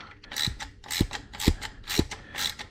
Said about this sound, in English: now we gotta take off this screw. It's a T25 torque screw.